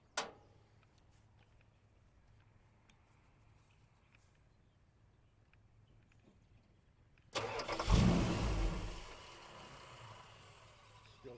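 A Mopar 440 V8 engine cranking and firing up after a long quiet stretch, a loud rough burst settling into a steady idle rumble, no speech.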